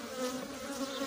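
A close, steady buzzing hum of honey bees, continuous and fairly loud throughout the brief moment.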